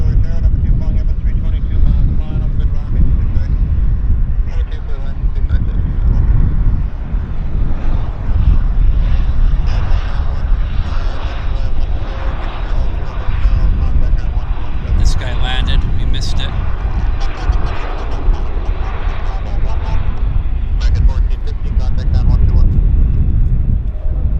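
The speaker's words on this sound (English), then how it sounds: "On approach. It's Air Canada Flight 211. It's an A320 bound from Calgary." Air Canada Airbus A320 on approach to Vancouver airport in gusty wind, a steady low engine roar and wind rumble running throughout, with people talking over it.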